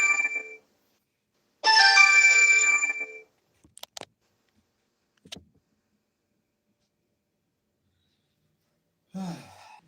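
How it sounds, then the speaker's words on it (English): A mobile phone rings with an incoming call: a brief tone, then a longer loud electronic ringtone burst, followed by a few faint clicks and another short sound near the end, heard close up. "Somebody called my phone and I can't answer it right now."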